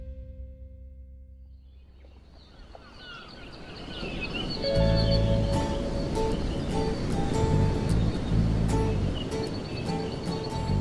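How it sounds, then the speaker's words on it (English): Ocean waves wash against jagged lava rock along a shoreline, a broad continuous surf roar that swells louder partway through, with faint bird calls above it and no voices. "Then he closes his eyes and listens to the waves hitting the jagged lava rock"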